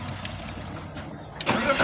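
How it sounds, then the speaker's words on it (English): A BMW E39 car engine cranks and fires up close by near the end, after a stretch of low background rumble. "Then I'll start the car."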